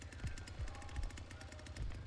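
Leatherface's chainsaw in the video game The Texas Chain Saw Massacre chugs with a faint, steady, pulsing engine rattle for about two seconds, with no voices.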